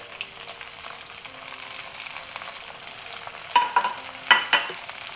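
Onions and tomatoes frying in a pan for home-style lamb ribs with burghul rice: a steady close sizzle, then several sharper clatters and stirring bursts near the end.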